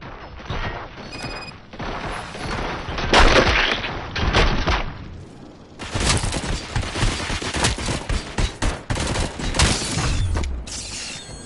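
Gunfire in the video game Robocop: Rogue City comes in loud, dense bursts of rapid shots and a heavy weapon, with mechanical clanks and crashes between volleys, near and intense.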